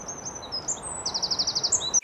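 Small songbird singing in the English countryside in winter, a faint, rapid trilling warble with repeated high notes carrying over a soft outdoor hiss, no voices.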